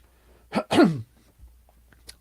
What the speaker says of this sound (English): I keep having to clear my throat